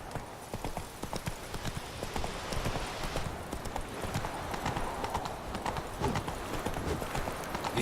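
Roach, a horse in the Witcher 3 game, gallops with a rapid, steady clip-clop of hooves at moderate distance, continuous throughout.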